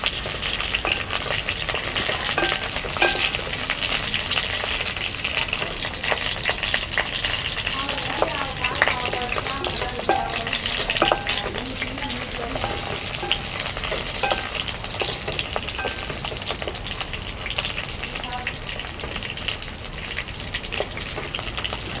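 Eggplant fries in plenty of oil for a tangy oil-based brinjal curry, producing a long, steady, close sizzle with crackling spatters and intermittent stirring scrapes throughout.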